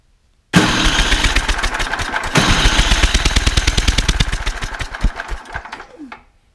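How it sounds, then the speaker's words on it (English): A Craftsman 9 hp snowblower engine is cranked over, kicking in abruptly with loud, rapid rhythmic chugging pulses that run for several seconds before slowing and cutting off, heard close with no talking. "Let's crank it over and see what we get."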